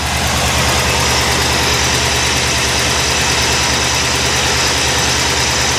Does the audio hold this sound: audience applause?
no